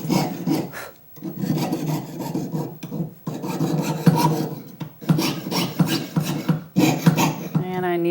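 Jeweler's saw blade cutting through sheet metal in short, steady rasping strokes, close and fairly loud, with brief pauses between bursts and a slight change in tone as the blade drags harder.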